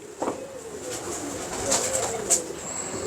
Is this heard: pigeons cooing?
yes